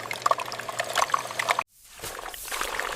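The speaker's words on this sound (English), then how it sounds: "Dark soda geysers down the metal walls. The liquid rises faster than a blink." Dark soda rushes into metal cans on a Pepsi factory filling line, a bright splashing pour that cuts off abruptly, then resumes as a hissing trickle amid machine clatter.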